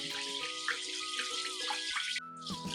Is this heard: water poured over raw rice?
yes